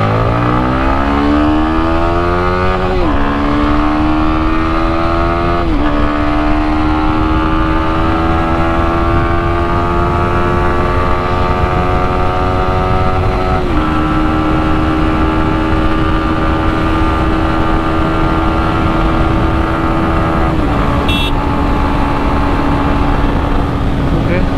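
A 150cc Yamaha motorcycle, an R15 V3 or MT15, is ridden with a steady engine drone that climbs in pitch through each gear and drops at every shift, loud and continuous throughout.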